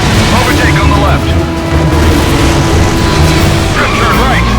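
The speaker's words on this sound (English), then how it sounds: "Close to the explosion." Explosion in the stunt-driving game Stuntman Ignition, a loud sustained rumbling blast blended with roaring engine noise and chaotic crashing.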